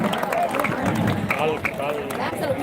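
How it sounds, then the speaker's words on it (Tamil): An audience at a stage event applauds an honoree being draped with a shawl, a steady patter of clapping mixed with crowd murmur, while a voice speaks over it. "அனைவரும் உற்சாகம் கூட கைத்தட்டுமாறு கேட்டுக்கொள்கிறோம்."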